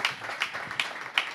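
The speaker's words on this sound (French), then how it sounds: "Je crois qu'on peut vous applaudir" A conference audience applauds briefly, with faint, distant scattered claps and a few sharper hits over a short stretch.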